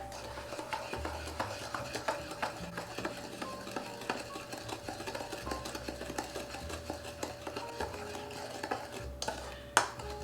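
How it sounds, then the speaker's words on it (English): A sauce sweetened with brown sugar stirred in a pot for party appetizers, a steady run of soft scraping and light spoon taps repeating close by over a low background hum, ending with one sharper knock. "you want to stir it until the brown sugar is dissolved"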